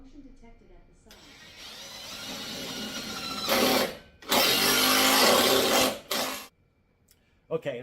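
Impact gun driving a bolt into a wall joist while a pull-up bar is mounted, rising in a few loud bursts of several seconds each, with a voice speaking during the quieter stretches.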